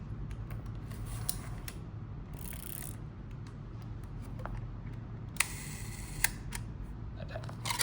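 A Seagull 4A twin-lens film camera is handled quietly up close, with soft mechanical clicks and a couple of sharper shutter snaps over faint background hiss.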